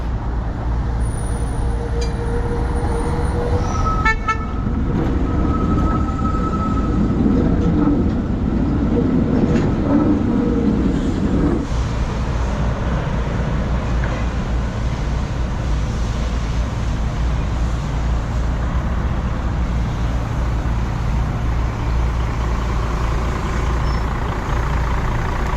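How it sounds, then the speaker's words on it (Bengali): Busy Helsinki Esplanade street where trams, buses, cyclists and pedestrians meet at several crossings. A continuous low traffic rumble fills the scene, with a tram's rattling, whining pass early on and a steady vehicle din afterward. "অনেকগুলো রাস্তার মোড়, সাইকেল, পথচারী, বাস, ট্রাম মিলিয়ে জমজমাট এলাকা।"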